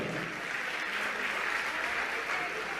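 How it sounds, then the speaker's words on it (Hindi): At a religious gathering, an audience claps steadily, a continuous, even patter of many hands heard at a fairly faint, distant level. "तालियां आपकी कम बज रही हैं, अच्छे से बजाइए थोड़ा।"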